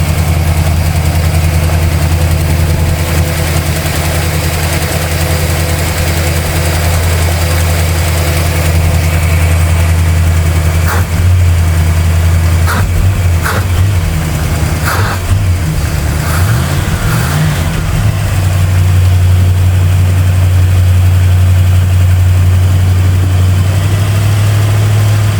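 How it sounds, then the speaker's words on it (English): A 1971 Pontiac Catalina four-door with a freshly rebuilt two-barrel carburetor idles steadily with a deep, continuous low rumble and a slight exhaust leak, and the engine note rises briefly midway before settling back. "I'm going to let it idle for a little while, see if that choke opens up all the way."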